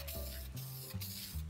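A Krylon acrylic clear flat spray can hisses in short bursts at close range as a final clear coat goes onto a wooden clock, each spray separated by brief pauses.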